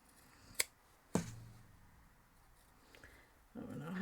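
Scissors cut the corners off sewn fabric for a Christmas centerpiece basket, giving two crisp, close snips in an otherwise quiet room, followed by soft handling rustle.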